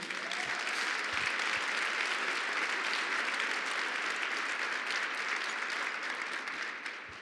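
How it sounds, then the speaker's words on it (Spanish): A church congregation applauds at a sermon by Pastor Jorge Bravo. The clapping is dense, continuous and fairly faint, holding steady for about seven seconds with no voices over it. "Denle un aplauso a esas personas, por favor."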